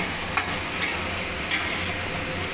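Turmeric and spices are stirred in a pan over low flame, a steady close sizzle broken by three sharp scraping strokes of the spoon.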